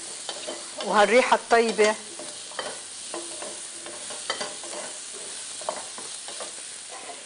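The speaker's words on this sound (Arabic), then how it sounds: "احنا بنشوح برضو البصل مع الجزر في الدهن اللي متبقى عنا طبعا من اللحمه" Onion and carrot sauté in leftover meat fat, a continuous close sizzle with a burst of stirring clatter early on, then lighter scrapes; a voice speaks briefly over the cooking.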